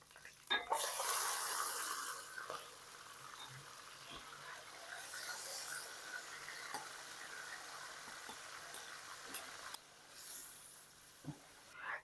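Beef liver (kaleji) sizzles and fries in a pan with spices and browned garlic-ginger paste, with bursts of loud hissing, quieter steady sizzle and occasional utensil clinks, no talking.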